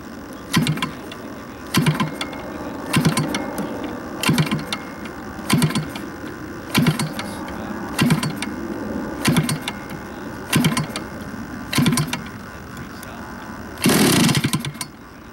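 Propeller flipped by hand on a gas-powered RC plane engine that does not start, giving about ten evenly spaced broadband chuffs over a steady background hum, with a longer, louder burst near the end.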